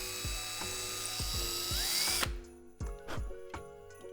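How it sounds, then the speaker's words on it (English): A handheld power drill bores upward at a slight angle into a craft piece, its motor whining and winding up in repeated short bursts, close and clear, with ratcheting clicks between runs. "when I'm drilling up at a little bit of an angle"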